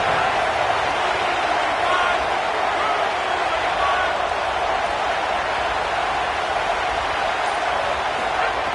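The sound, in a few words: stadium crowd noise in college football video game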